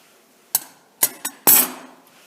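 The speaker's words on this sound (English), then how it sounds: "And so then I'll cut about 1/4 inch off the side of the dripper itself on each side." Cotton wick trimmed flush with the side of a Plume Veil RDA dripper, heard as four crisp, separate snips, the last slightly longer, set against near silence.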